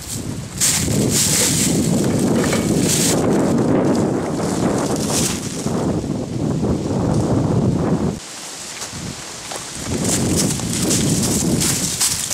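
Strong wind buffets and roars across the microphone almost continuously during an outdoor airsoft war game in Minnesota, with a brief lull near the end before gusting again.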